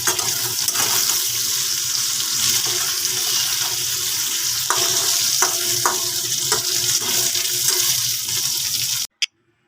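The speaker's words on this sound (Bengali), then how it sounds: "নুন হলুদ দিয়ে দেখো ভালোভাবে নেড়ে চেড়ে নিচ্ছি" Mixed vegetables fry in a pan with salt and turmeric, a constant hissing sizzle with occasional sharp spatula knocks as they are stirred, cutting off abruptly near the end.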